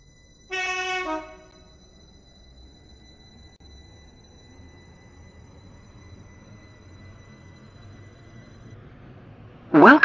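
A five-coach Airlink passenger train in the Stepford County Railway game gives a short, bright horn toot near the start, then rumbles along steadily with a faint tonal hum before another sharp burst at the very end.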